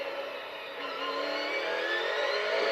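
A race car at full throttle on a qualifying lap of the Clash, steady loud engine roar that builds slightly, no talk.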